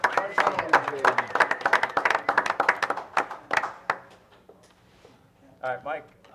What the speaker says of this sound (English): Jade, can we get a round of applause for the supervisor for the day?